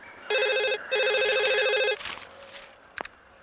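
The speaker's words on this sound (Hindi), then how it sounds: "बेटे फोन।" A telephone rings electronically in two bursts of rapid trilling tones, followed by a brief rustle and a soft click.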